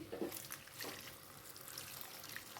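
Hot water poured into masoor dal cooking with spices in a pan, a soft, steady liquid splash and trickle that stays faint for a few seconds with no voices.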